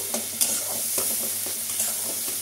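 Mustard paste and spices for a katla fish curry sizzle and crackle as they are stirred and sautéed in hot oil, a steady close frying hiss with occasional spoon scrapes.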